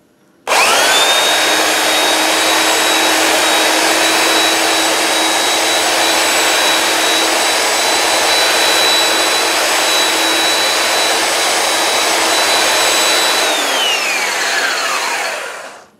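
Loud power sander working wood held in clamps, a steady unbroken whine with a constant tone that runs alone for about thirteen seconds before spinning down and stopping.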